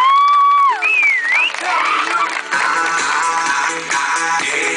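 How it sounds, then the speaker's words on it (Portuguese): A crowd of family and friends applauds and cheers for Jonathan, opening with whistled tones, then a lively mix of clapping, shouts and whoops, loud and close. "Mais palmas para o Jonathan"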